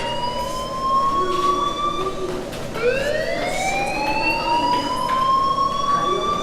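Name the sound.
video game fire alarm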